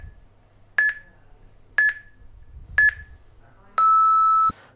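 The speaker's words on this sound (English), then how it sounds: "the athlete would be getting ready while the app is beeping" A rest timer alert in the Vitruve Teams weightlifting app gives three short, evenly spaced beeps about a second apart, followed by one longer, lower tone. The tones are clear and close against a quiet background.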